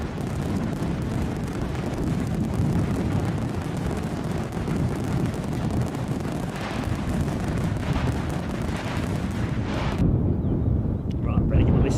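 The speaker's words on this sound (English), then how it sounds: "Audrey, fireworks for you." A fireworks sound effect played during a plane-spotting livestream in Edinburgh, a dense rumbling barrage of booms and crackles that runs loud for about ten seconds before cutting to quiet.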